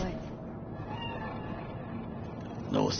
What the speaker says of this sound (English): That cat? Fine-looking feline.